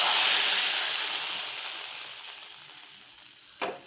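Hot tempering oil poured into a Kerala-style fish curry in a clay pot, a loud crackling sizzle that bursts up at first and gradually fades, with a couple of brief knocks near the end.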